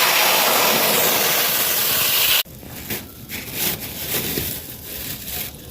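Water poured into a pan of hot semolina fried in ghee, for rice-flour halwa. A loud, steady rush of hissing steam lasts about two seconds and then cuts off sharply. Quieter scraping and stirring noises follow.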